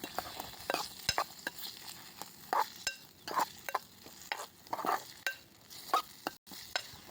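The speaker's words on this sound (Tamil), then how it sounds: "இப்போ இதை போட்டு நல்லா வதங்கணும்." Tomatoes sauté in a pan while a utensil stirs and scrapes them, a quiet sizzle broken by repeated close scraping strokes at an uneven rhythm, with no talking.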